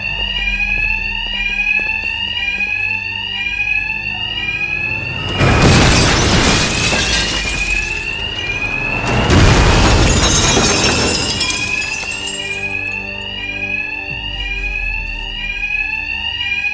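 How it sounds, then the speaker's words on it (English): A bank alarm in Batman: Arkham Knight rings continuously with a repeating electronic warble, loud and steady, broken by two bursts of crashing and shattering noise partway through. "can't hear a thing over the alarm"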